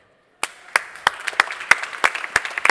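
Applause from a science-show audience for a volunteer named Sebastian: brisk, fairly close hand clapping that starts abruptly and carries on steadily, standing alone without talk.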